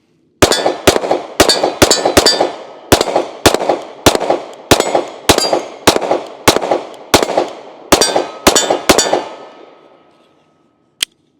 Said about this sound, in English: Let's go ahead and take a few shots.